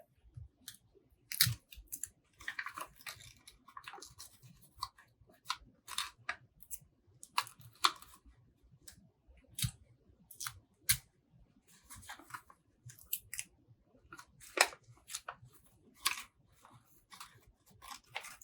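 Scissors snip through paper in a quiet classroom craft activity, with a long series of irregular sharp cuts and rustles of handled paper, each close and crisp against near silence.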